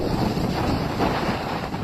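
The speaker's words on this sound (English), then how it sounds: "these massive waves just keep slamming against it" Hurricane Florence's wind roars on the North Carolina coast, a dense steady rush buffeting the microphone, with heavy waves slamming against a pier lost in the continuous broadband noise.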